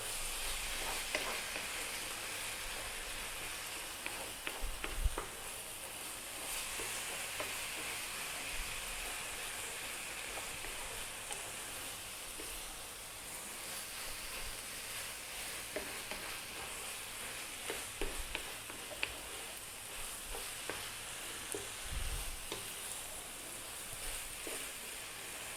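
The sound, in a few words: cabbage, egg and spinach frying and stirred in pan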